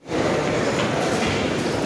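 A Tashkent–Samara passenger train rumbles past at close range at a station, a loud steady roar of wheels and carriages with no voices.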